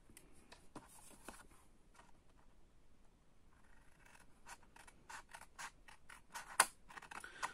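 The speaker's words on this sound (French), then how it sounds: "nous allons simplement découper jusqu'à ce trait-là" Scissors cut paper along a drawn line for a notepad craft project, giving quiet, close crisp snips and scratchy rustles in an irregular series, with faster snipping toward the end.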